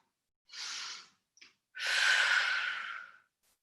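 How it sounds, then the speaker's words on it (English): A pregnant woman doing yoga breathes out through a relaxed jaw, giving two breathy exhales with a faint puff between them. The first is short and the second long and steady, both close and soft, with no talk. "And remember to have a nice relaxed jaw as you blow."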